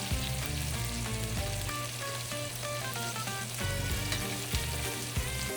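Scallops searing in a hot skillet, a dense, steady sizzle heard up close and alone, with a couple of soft knocks near the end.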